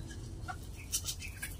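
Hungry chickens cluck softly while being fed in a farmyard, brief scattered clucks and calls over a low background rumble.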